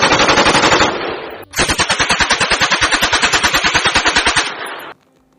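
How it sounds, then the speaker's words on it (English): Two long bursts of rapid automatic gunfire, loud and close, as police open fire on protesters; a short burst stops abruptly, then a longer rhythmic volley runs about three seconds before cutting off. "The police opened fire on the advancing masses."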